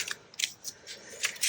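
Scissors snipping paper pieces for an accordion tag, a series of about six short crisp cuts spaced irregularly, close and fairly quiet with no talking.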